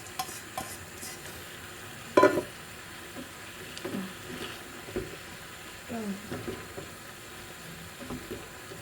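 Bean sprouts go into a hot wok for a mixed-vegetable stir-fry and crackle, with a sharp burst near the start followed by softer sizzling and stirring clatter, close up.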